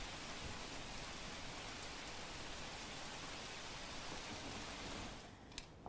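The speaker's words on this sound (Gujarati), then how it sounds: "રાજકોટ જામકંડોરણાના ધોળીધાર ગામમાં વરસ્યો છે વરસાદ" Heavy rain pouring down steadily in a village in Jamkandorna, Rajkot, Gujarat, a dense, even hiss of falling water throughout, fading slightly at the very end, with no voices.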